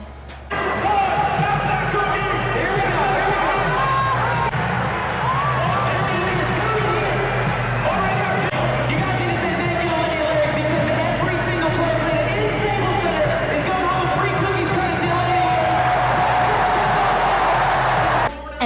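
An excited crowd of fans at a Kings basketball game fills a busy arena with constant hubbub, cheering and the thump of a bouncing ball, loud and unbroken throughout, with voices mixed into the din.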